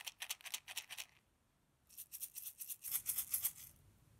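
A homemade shaker filled with rice rattling in quick bursts, a crisp hissy swish repeated several times, then a pause before another round of faster shaking.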